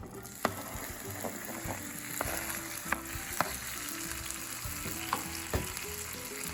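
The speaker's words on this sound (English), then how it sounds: "simply going to fry these tomatoes a bit" Tomatoes frying in oil in a pan for Chinese tomato and egg give a steady, moderate sizzle, broken by occasional sharp pops and small spatula clicks.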